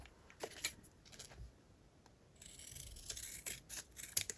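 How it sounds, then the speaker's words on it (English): Paper calendar being trimmed with scissors, a few quiet, close snips and rustles in an otherwise hushed room. "I'm just going to trim it. I'm gonna cut about that much."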